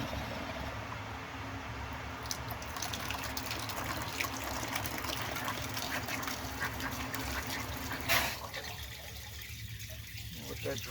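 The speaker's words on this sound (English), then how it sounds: "now what we're going to do is just blast the cold water in there to swirl around the bottom of this tank" Cold water blasts into the bottom of a hot water heater tank to flush out sediment, making a steady rushing, gushing stream that runs continuously. A brief louder splash comes near the end.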